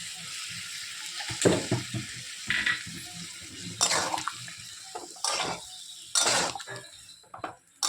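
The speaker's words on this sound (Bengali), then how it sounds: "এখন একটু গুঁড়া মশলাটা দিয়ে একটু কষিয়ে নেব" Pumpkin curry with ground spices sautéing in a pan, soft sizzling broken by scrapes and clinks of a stirring spoon, several short bursts close by.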